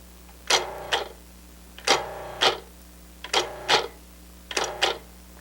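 Short mechanical whirring bursts in pairs, four rounds of brief pulses separated by pauses, close and moderately loud, a Cuisinart DLC-7/8 series food processor pulse-chopping.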